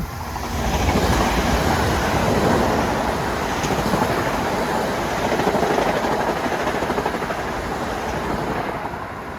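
An LIRR commuter train from Ronkonkoma to Penn rumbles past Forest Hills station, a loud, steady roar of wheels and cars sustained throughout with no voices.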